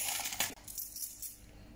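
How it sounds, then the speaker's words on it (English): A couple of soft metallic taps as coins drop into a light foil boat, close by and faint. "I'm gonna put these coins to see whether it's going to float or sink."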